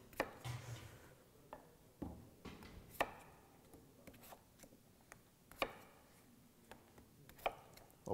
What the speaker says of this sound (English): Next, we're going to cut our potatoes so that they're even sized so they cook evenly